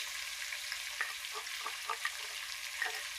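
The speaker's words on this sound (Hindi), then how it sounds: "अब मैं इसमें शामिल करूँगी अदरक लहसुन का पेस्ट।" Steady hissing sizzle of ginger garlic paste frying in a hot pan, with faint scraping stirs and soft pops scattered throughout.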